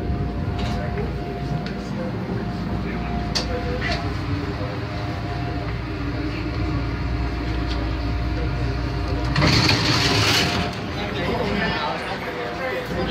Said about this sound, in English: This is a Brown Line train to Kimball.